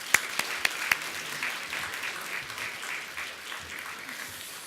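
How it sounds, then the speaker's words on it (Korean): Church congregation applauding to welcome a pastor at a Sunday worship service, a few sharp separate claps at first, then a steady, fairly soft wash of clapping that carries through to the end. "우리 목사님 나오실 때 뜨거운 박수로 환영해 주시기 바랍니다."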